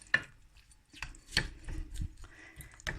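Food is stirred in a pot in a Thai kitchen, giving a few close, irregular clanks and knocks of utensil against the pot with short pauses between them, and no speech.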